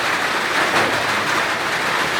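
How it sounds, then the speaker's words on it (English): Steady rain falling outside, a dense continuous hiss with a broad even texture and no pauses, fairly loud and close. "it's raining here and I don't think if you can really get me"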